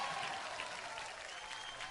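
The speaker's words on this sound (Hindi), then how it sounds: "परिणीति के लिए एक बार जोरदार तालियां हो गए" Brief applause from a hall audience at the Filmfare Awards show, a quiet, steady wash of clapping lasting under two seconds.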